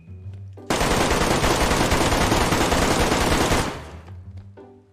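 Automatic gunfire in the video game DayZ, a sustained rapid burst of shots for about three seconds, loud and close, then fading to quiet background sound.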